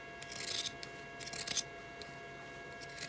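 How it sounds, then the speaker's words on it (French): Scissors snip through fabric along the seam of a handmade rag doll, giving a series of close, crisp cutting strokes in short clusters with quiet pauses between. "Je vais couper le long de la couture."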